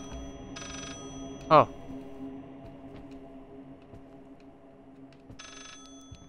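Telephone in the horror game Layers of Fear, two brief buzzing rings a few seconds apart over a low humming background, with a short spoken exclamation between them.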